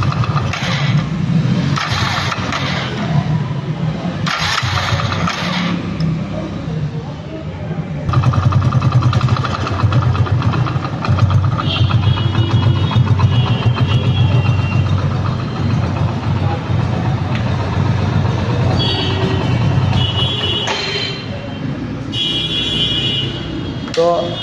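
A 2024 Hero Splendor Plus Xtec 100cc motorcycle runs close by with a steady, throbbing idle that rises in several revving surges, while someone speaks intermittently over it.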